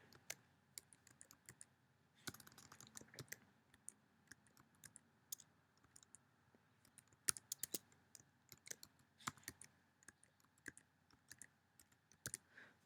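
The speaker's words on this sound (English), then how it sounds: "So I have to retype that in." Intermittent clicks and taps of typing on a computer keyboard while entering a password during Gmail account setup, quiet and close, with short pauses between bursts and no talking.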